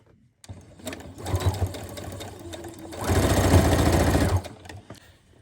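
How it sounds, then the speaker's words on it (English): A sewing machine runs in two bursts of rapid, steady stitching, the second longer and louder, with brief pauses and faint handling noises between. "let's go ahead and stitch this down. So we're going to do a straight stitch."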